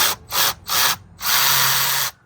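A 3/8-inch ratchet loosening intake manifold bolts on an LS 5.3 V8 in a GMC Sierra, giving three quick bursts of rapid clicking followed by one longer continuous run, close and fairly loud with no talk.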